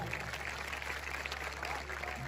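Audience applause at a Hindi kavi sammelan (poetry gathering) with heroic-style verse, a steady dense wash of clapping held at an even level throughout, with a sustained low hum underneath.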